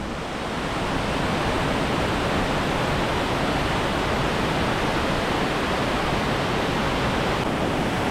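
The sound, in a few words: waterfall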